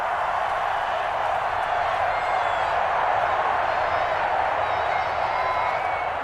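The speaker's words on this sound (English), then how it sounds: "Crowd getting in it a bit already." A football stadium crowd keeps up a broad, steady roar throughout, loud and constant, with no clear peaks.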